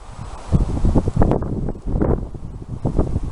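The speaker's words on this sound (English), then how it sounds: "Don't know if you can hear me because of the wind" Wind buffets a microphone outdoors at an abandoned Cold War bunker in Medway, with gusty, rumbling low-frequency blasts that rise and fall in uneven waves throughout.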